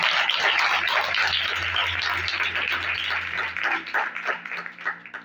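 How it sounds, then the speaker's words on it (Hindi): Church congregation at a Sunday service applauding loudly, a dense steady wash of many hands clapping that thins into scattered claps toward the end. "जोरदार तालियां खुदा के सामने दीजिए"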